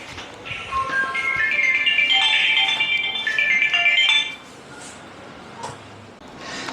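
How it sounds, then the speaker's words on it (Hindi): A mobile phone rings with a bright electronic ringtone melody for about four seconds, fairly close and loud, then cuts off, leaving faint room noise and a couple of soft knocks. "फोन मेरा बज रहा है"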